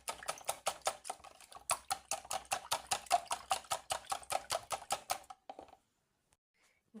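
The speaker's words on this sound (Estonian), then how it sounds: "Siin on siis 6 muna. Klopime need lahti soola ja pipraga." Six eggs with salt and pepper are whisked briskly in a bowl, a fast, even run of close clicking strokes that briefly pauses, resumes for several seconds, then stops into near silence.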